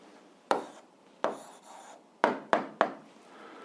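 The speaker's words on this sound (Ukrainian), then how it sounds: "Пишемо відповідь." A pen or chalk writes an answer by hand for an 8th-grade algebra exercise, five sharp scratchy strokes with short pauses between, close and alone without talk.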